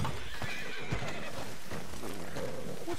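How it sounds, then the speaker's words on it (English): Horse in the Red Dead Redemption 2 video game neighs and whinnies while hooves clip-clop beneath, a few close, fairly loud calls over steady ambient game noise. "What's got this horse spooked, huh?"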